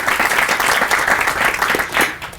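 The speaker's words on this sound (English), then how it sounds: "How about a round of applause for Mr." Audience applause at a future educator signing ceremony in a school library, a steady burst of clapping from a seated crowd that holds for a couple of seconds before tapering.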